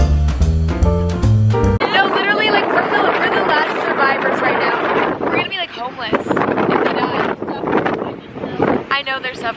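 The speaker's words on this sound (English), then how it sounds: "Staying beach because it's so windy." Strong wind buffets the microphone on a beach in Waikiki, a loud continuous roaring rumble that follows a brief burst of music and runs unbroken to the end.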